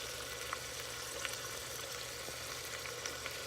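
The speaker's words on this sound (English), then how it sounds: "That's been toasting for about 4 or 5 minutes." Ingredients toasting in a pan for a homemade Bolognese sauce, giving a steady, quiet sizzle with a few faint pops and light stirring clicks, alone without voices.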